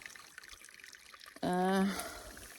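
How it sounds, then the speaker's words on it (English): A small stream trickles softly outdoors with a steady gurgling wash, then a brief voice sound cuts in over the water near the end. "So just it's trickling, it's water."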